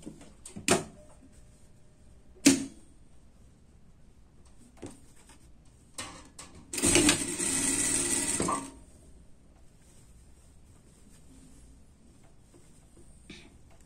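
A sewing machine runs in one short burst of about two seconds, stitching a sleeve seam on a themed party dress, with a few isolated clicks and handling knocks before and after in an otherwise quiet room.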